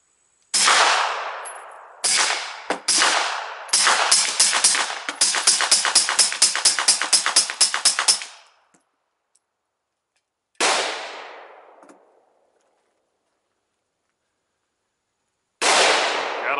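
Suppressed gunshots from a Glock 19 pistol fitted with a SilencerCo Octane 45 suppressor, fired outdoors: sharp, loud cracks, first a few spaced single shots, then a rapid string of evenly paced rounds, followed by two more isolated shots.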